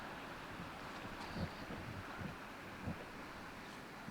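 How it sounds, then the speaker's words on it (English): New York Creek flows into Folsom Lake in the rain, making a faint, distant, continuous rushing wash that stays steady with no talking over it. "You can hear the creek over there, I think."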